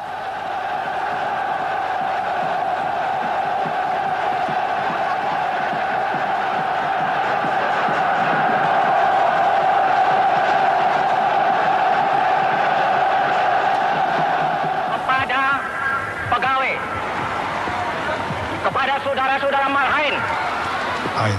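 Large crowd roaring and cheering as Sukarno is mobbed on his drive to the Governor-General's palace, a dense sustained wall of voices with louder shouting bursts later on, from old archival footage.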